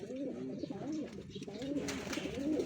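Racing pigeons cooing close by in a loft, repeated soft rolling coos overlapping one another with faint background rustle.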